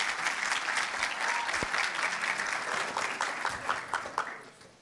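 Applause from an audience at a demo day event, a loud dense patter of many hands clapping together that holds steady and then tapers off at the end.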